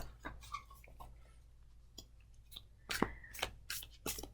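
Soft papery shuffling and riffling of tarot cards in quick bursts, quiet and close, with a few sharper flicks toward the end.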